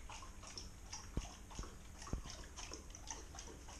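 A dog laps water from a bowl at suppertime, soft wet slurps with a few faint clicks, quiet and close, with no talk.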